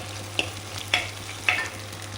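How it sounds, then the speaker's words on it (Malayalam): Shallots, garlic, ginger, green chili and curry leaves frying in oil, a soft steady sizzle with three sharp spitting pops at even intervals. "ചെറിയുള്ളിയും വെളുത്തുള്ളിയും ഇഞ്ചിയും പച്ചമുളകും കറിവേപ്പിലൊക്കെ നന്നായി ബ്രൗൺ നിറം ആയി വരട്ടെ"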